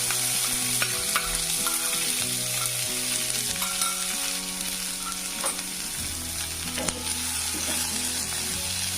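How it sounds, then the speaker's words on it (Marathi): Chopped onion frying in oil in an iron kadhai gives a loud, constant close sizzle, with intermittent metallic scraping and stirring clanks of a spatula against the pan. "चिरलेला कांदा आपण छान तेलावर भाजून घेऊ।"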